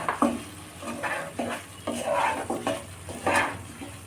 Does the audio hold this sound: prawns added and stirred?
yes